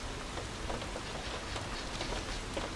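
Steady, dense hail or heavy rain patters without pause in an indie horror video game, a continuous hiss of drops striking surfaces at an even, loud level.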